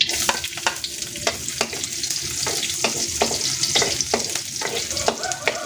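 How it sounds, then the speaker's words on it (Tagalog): Garlic fries in hot oil in a pan, giving a steady bright sizzle with repeated scraping stirs of a utensil against the pan, close and alone without talk. "So papainit na ako ng kawali. Lagyan na ng mantika. Maglalagay na ako ng bawang."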